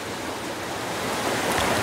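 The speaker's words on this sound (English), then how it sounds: "This is actually a hot spring." Water from a hot spring trickles and drips down a cliff face beside a river, a steady, close, hissing wash of sound with no voices.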